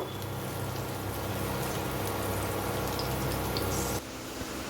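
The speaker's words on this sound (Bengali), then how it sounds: "ফার্স্টে কচুটা ভেজে নিচ্ছি কচুটা একটু ভালো করে লাল লাল করে ভেজে নেব" Pieces of taro fry in hot oil in a pan, a close, steady, crackling sizzle that holds evenly, then drops back sharply near the end.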